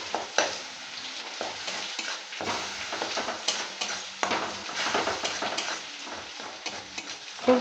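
Spiced masala and tomato sizzle in a pan for Bengali fish curry (machher jhol), with steady frying hiss, repeated spatula stirring and scraping against the pan, and no talk.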